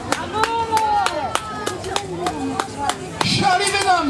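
Crowd at a live wrestling show clapping in sharp, regular claps spread over several seconds, fairly close, while an excited commentator talks over the noise.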